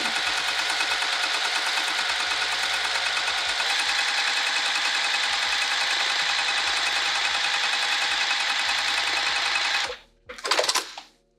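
A sewing machine stitches fabric for a Rosetta bag in a steady, loud, fast mechanical whir for about ten seconds. It stops abruptly, then runs again in a short burst.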